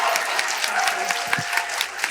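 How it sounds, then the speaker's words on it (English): Audience applauding after a talk on mother trees and forest resilience, a steady crowd of clapping with occasional louder individual claps, fairly close and continuous throughout. "we may have heard claps and cheers from the crowd"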